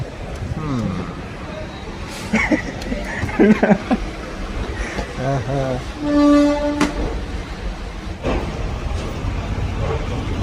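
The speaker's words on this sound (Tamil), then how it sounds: "எக்மோர்லேருந்து ட்ரெயின் கிளம்புது." A train departs Chennai Egmore station with clatter and rumble and people talking, then a short horn toot sounds midway before the rolling noise continues.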